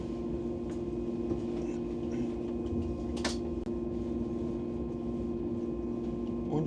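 An ICE-T high-speed train rolls into Leipzig station, heard from inside the passenger car as a steady low drone and hum with a single brief knock partway through.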